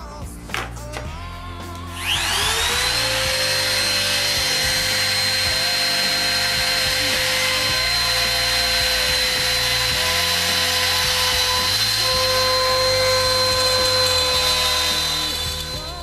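A power tool, likely a jigsaw, cuts out a countertop along marked lines, spinning up after a couple of seconds into a loud, steady whine that holds for the rest of the clip with no talk.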